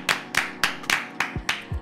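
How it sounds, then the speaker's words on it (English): Six sharp hand claps in a slow, even rhythm, close and clear, with short gaps between each clap and no voices over them. "I'm clapping you."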